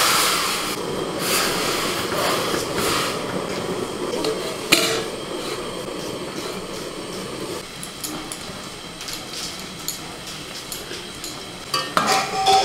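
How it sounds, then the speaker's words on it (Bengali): Chicken leg pieces rubbed with salt and turmeric simmer in hot water in a wok, a continuous bubbling and hissing with occasional clinks of utensils against the pan, close and moderately loud. "জল গরম হয়ে গেছে, লবণ হলুদ মাখিয়ে রাখা চিকেনটা আমি একটু হালকা করে সিদ্ধ করে নেব।"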